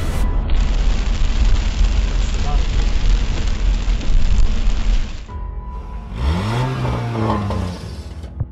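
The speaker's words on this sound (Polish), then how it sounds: "Przywitała nas kolejna deszczowa noc." Steady heavy rain drums close by at night in the Alps for about five seconds before cutting away, followed by quieter ambience and someone talking.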